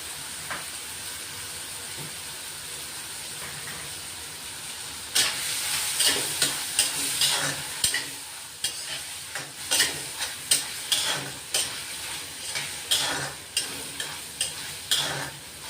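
Sweet corn kernels sautéing in butter in a pan for a Girgaon Chowpatty-style corn chaat: a soft, steady sizzle gives way to louder, rhythmic stirring scrapes and crackles that repeat about every second, heard up close without speech.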